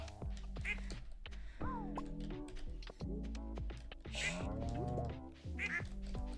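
Ducks quack repeatedly in the Stardew Valley farming game, short nasal calls recurring through a busy game soundscape with other bright chimes and effects, fairly close and steady.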